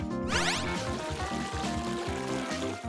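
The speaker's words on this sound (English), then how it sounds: "Fill it with water." Water pours steadily into a container, filling it with a continuous gurgling, rising tone from start to finish, close and fairly loud, with no voices over it.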